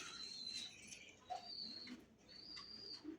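Pigeons in a breeder's loft coo softly in a few low, brief calls under steady background noise and faint high chirping.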